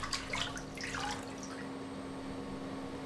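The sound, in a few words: water dripping as foil is rinsed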